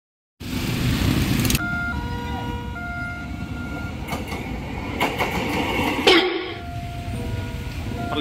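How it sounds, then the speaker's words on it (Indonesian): A train rumbles past a level crossing near Poris Station, Tangerang, with a steady roar, rhythmic clacking and a sharp horn-like squeal, loud throughout. "Oh, kereta."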